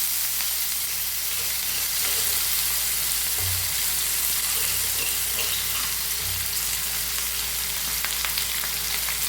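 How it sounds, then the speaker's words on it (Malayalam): Curry leaves and ginger-garlic paste hiss and sizzle steadily in hot oil in a pan, a loud, continuous close-up crackle with a couple of soft low thumps and no talk. "ഇനി ഇതാ ഞാൻ കറിവേപ്പില കൊടുക്കുന്നുണ്ട് കേട്ടോ കുറച്ച് ഇഞ്ചി വെളുത്തുള്ളി പേസ്റ്റ് കൊടുക്കുന്നുണ്ട്"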